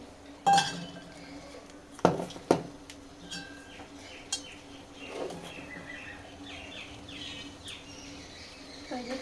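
A spoon scoops two spoonfuls of food into a bowl and mixes it with hot water, giving a few sharp close clinks early on, then softer scraping and tapping over a faint background of insect chirping.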